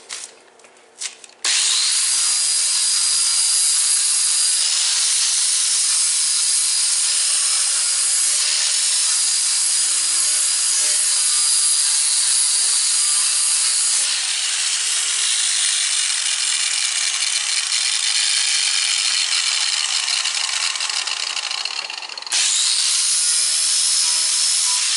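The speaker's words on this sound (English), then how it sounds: "I'm going to grind this off a little bit with a flap disc to clean it up and then weld" Angle grinder with a flap disc grinding metal before welding, a steady, loud high-pitched whine sustained for over twenty seconds, with brief dips in pitch as the load changes.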